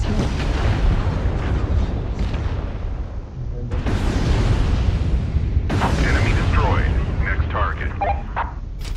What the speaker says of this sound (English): Ammo exploded.